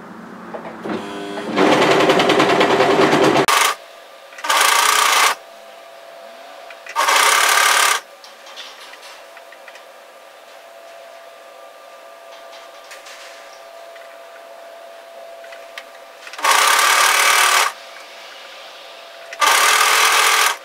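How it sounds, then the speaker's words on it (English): A sewing machine stitching a cardigan seam runs in loud, close bursts of steady mechanical whirring, four separate runs with quieter pauses between them, with a faint steady hum continuing throughout. "now we're sewing through to the center back neck"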